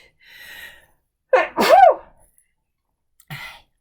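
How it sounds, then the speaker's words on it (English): A single sneeze indoors, a sharp loud burst followed by a short breathy tail, with a brief faint sniff or gasp afterward and quiet around it. "And I feel a sneeze coming."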